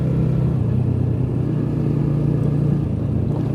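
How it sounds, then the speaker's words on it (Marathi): Exhaust note of a plain, ordinary motorcycle ridden on a ghat road during a coastal touring ride, a steady low engine drone held throughout at close range, with no speech. "आहे साधी गाडी पण एक्झॉस्ट नोट पण मस्त वाटतं मला हिची ऐकायला"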